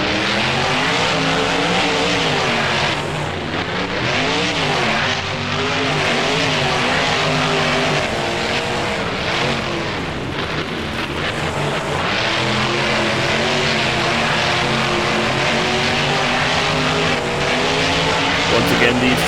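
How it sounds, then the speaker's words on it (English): Two BeamNG monster trucks race fast down a straightaway, their engines roaring steadily and loudly with rising and falling pitch throughout, while a commentator talks over the continuous engine noise. "these two trucks coming very fast down the straightaway here"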